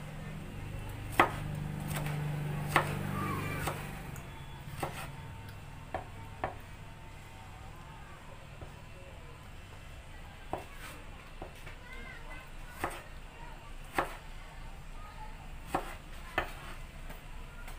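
A knife chopping vegetables such as onion on a cutting board, sparse sharp taps spaced a second or two apart over steady low room noise, with brief talk near the start.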